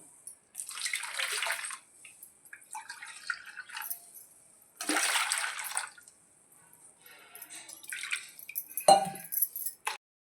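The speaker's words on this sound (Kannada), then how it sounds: "ಸ್ವಲ್ಪ ನೀರು ಹಾಕ್ಬಿಟ್ಟು ಸೇರಿಸ್ಕೊಳ್ಳೋಣ." Water splashes into a cooking pot for rasam in bursts, with short pours separated by quiet gaps and light clinks of the vessel.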